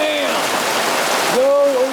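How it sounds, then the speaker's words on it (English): Rain drums steadily on a boat's awning, a dense, even hiss filling the whole stretch, while someone talks over it throughout. "Go away, rain."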